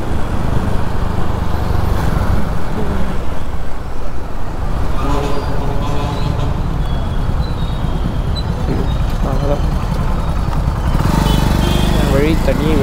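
Busy morning road traffic heard from a delivery motorcycle, with a constant engine and road rumble, passing vehicles and scattered horn-like tones, while someone talks throughout.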